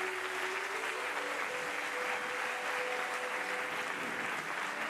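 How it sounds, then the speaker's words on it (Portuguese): Steady congregational applause fills a church service, a dense even wash of clapping from many hands, loud and sustained throughout with no talk. "Aplauda o Senhor"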